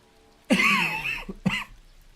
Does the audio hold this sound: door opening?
no